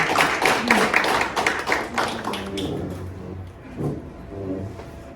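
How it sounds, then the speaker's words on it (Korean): A small audience claps briefly at a talk, a scattered burst of hands in the first few seconds that thins out, followed by quieter murmuring voices. "박수"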